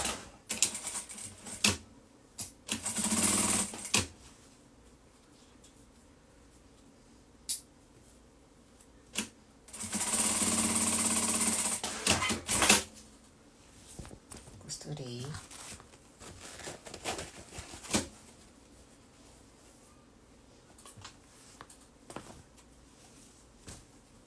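A sewing machine stitching a seam on folded fabric for a kitchen oven mitt, with two loud whirring bursts of rapid stitching, one short and one longer, between quieter handling and a person talking.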